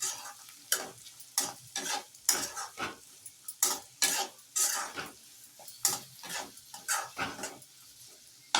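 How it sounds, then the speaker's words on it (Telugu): Chopped tomatoes are stirred in a pan for poha upma, giving a rhythmic run of close scraping and clinking strokes over a light sizzle, with no talking. "ఈ టమోటాస్ని యాడ్ చేసేసుకోండి. ఒకసారి కలుపుకొని"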